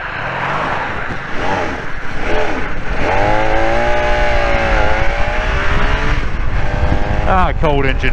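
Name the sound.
cold motorcycle engine running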